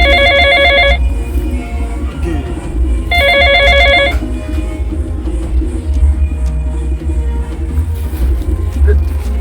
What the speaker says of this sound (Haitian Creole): le téléphone m'a sonné.